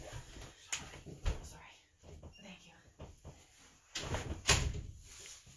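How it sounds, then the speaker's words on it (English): A room door pushed shut indoors, landing as a couple of sharp thuds and bangs among faint movement and quiet whispered talk, with the loudest bang near the end. "I'm just gonna run and close my door here."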